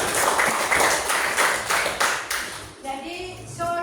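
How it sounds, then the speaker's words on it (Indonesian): A classroom of children clapping their hands together in applause, lively and fairly close, for roughly three seconds before the clapping thins out and a voice begins speaking over it. "ibu beri aplaus ya kita semuanya"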